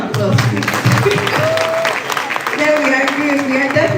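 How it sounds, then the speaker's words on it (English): Audience applause at a youth summit, a crowd of hands clapping at moderate volume with voices and tonal sounds mixed in over it. "A round of applause, please"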